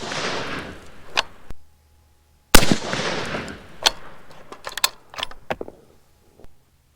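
A 6.5 Creedmoor rifle with a Uintah Precision bolt fires a single sharp, loud crack midway, followed by a short decaying echo and a few scattered clicks, preceded by a softer noisy burst.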